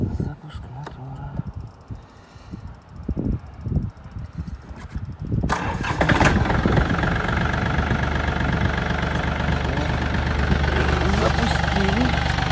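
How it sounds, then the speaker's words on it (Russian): A Yanmar F215 Japanese mini tractor's engine cranks and catches at about five seconds, then settles into a steady, loud, close diesel run. Someone talks over the quieter opening before it fires. "Сейчас сделаем запуск мотора."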